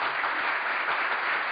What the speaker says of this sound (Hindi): आप दोनों की परफॉर्मेंस के लिए जोरदार तालियां